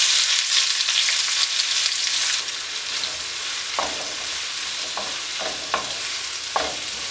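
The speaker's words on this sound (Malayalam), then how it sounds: "അത് എണ്ണയിലേക്ക് ഇട്ട് നന്നായിട്ടൊന്ന് വഴറ്റിയെടുക്കാം." Sliced onions and green chillies sauté in hot oil, first as a bright loud sizzle that then settles lower, with several sharp spatula scrapes against the pan in the later seconds.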